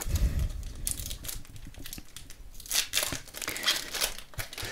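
Close, crinkly foil tearing and rustling as a Pokémon Sword and Shield Battle Styles (EB5) booster pack wrapper is ripped open, a few sharp rips among continuous crumpling.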